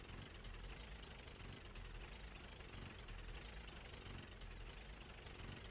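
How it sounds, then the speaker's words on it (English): A car engine in the video game Jalopy runs rough, droning steadily in a dense unbroken rumble with no pauses. "our engine doesn't sound good at all"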